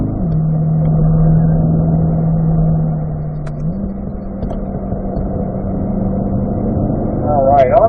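Race car on a track during a hot lap, its engine droning loudly and steadily with a shift in pitch partway through, heard from inside the car.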